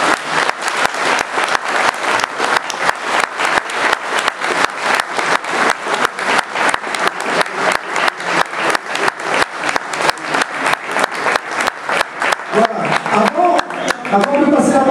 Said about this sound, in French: Et vous applaudissez beaucoup